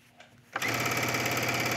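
A sewing machine stitching a collar onto the right side of a tunic starts abruptly after a short quiet moment, then runs at a fast, steady, close buzzing rattle without pause, with no one speaking.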